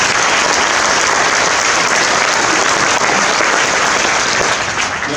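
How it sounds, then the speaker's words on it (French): Audience at a community council New Year's wishes ceremony applauds steadily and loudly, a dense continuous clapping that holds for the whole stretch and thins slightly at the end. "on peut l'applaudir"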